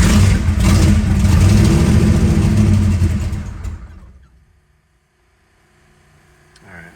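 A twin-turbo big-block Chevy engine in a Nova rumbles loud and close, revving hard for about three seconds before dropping off sharply to near silence, with a faint mechanical click at the end.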